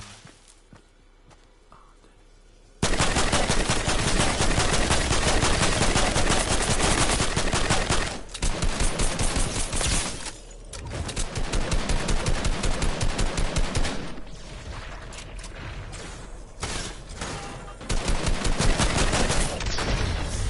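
Rapid bursts of gunfire in the Fortnite video game during the final fight of a match, loud and sustained with repeated volleys and brief pauses, after a quiet opening.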